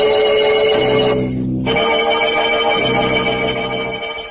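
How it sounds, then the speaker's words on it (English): Bells ring in a radio drama sound effect, a loud, sustained electronic-toned chiming that keeps going with a slight pause partway through and no voices. "hears the bells ringing, ringing, every hour, on the hour"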